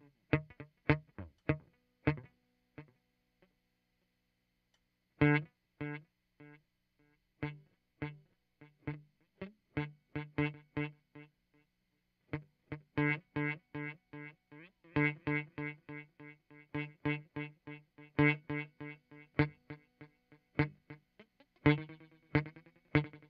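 Electric guitar runs through a Hothouse DaisySeed DSP pedal set to delay. Plucked notes and chords each trail off into repeating echoes, with short pauses between phrases and no talking.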